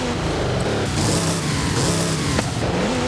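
A tuned car engine revs hard in a steady, loud roar with a rising pitch sweep near the end, continuous through the whole short stretch.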